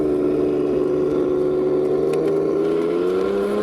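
A toy RC tank's built-in speaker plays a tank engine effect at full volume outdoors, a steady droning hum with layered harmonics whose pitch sags slightly near the end, heard alone.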